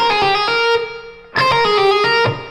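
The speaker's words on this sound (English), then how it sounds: "Then we get into another sequence lick" A distorted electric guitar plays a fast six-note sequence lick from a guitar solo: a loud run of quick repeated notes, a brief drop in level, then the pattern resumes at full volume.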